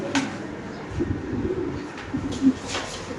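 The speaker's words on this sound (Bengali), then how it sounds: "বিশাল বড় সাইজের একটা মুন্ডিয়ান নর কবুতর।" A large white Mundian male pigeon coos in low, throaty bursts, with a few soft calls coming from close by over steady background noise.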